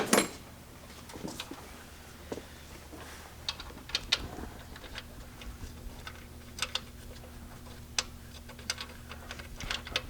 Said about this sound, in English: let me get a screwdriver. Screw this back in.